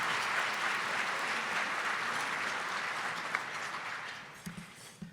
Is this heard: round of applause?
yes